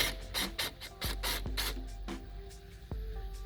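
A borrowed pneumatic impact gun works a fastener loose while an alternator, AC compressor and power steering pump are removed from an engine, giving short ratcheting bursts with sharp impacts, close and loud.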